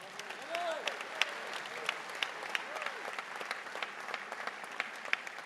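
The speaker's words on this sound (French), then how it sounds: "je voulais que vous applaudissiez" Audience at a French right-wing political gathering applauding, a steady patter of many hands, moderately distant and fairly quiet throughout, with a voice briefly heard over it.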